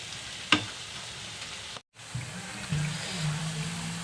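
Onion pakodi deep-frying in hot oil, street-style, with a steady low sizzle and bubbling, a sharp clink early on, a brief dropout, then the frying swells louder and continues near and alone.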